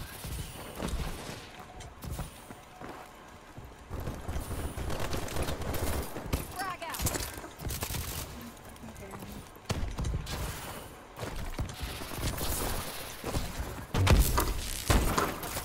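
Sniper gunfire in a game, a string of sharp shots and bursts scattered through the stretch, loud and close, heard under excited male chatter.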